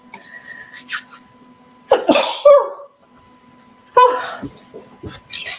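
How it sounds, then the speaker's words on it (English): Someone working at a desk sneezes several times, with sharp bursts separated by short gaps and breathy sounds around them, close and loud in a quiet room. "I need to sneeze."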